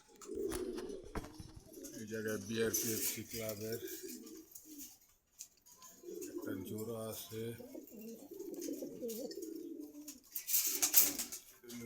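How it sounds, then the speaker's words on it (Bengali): Large pigeons coo in bursts at a market in Meradia, Dhaka, between stretches of someone talking nearby, the throaty calls rising and falling in short repeated phrases. "খুব বিগ সাইজের কবুতর"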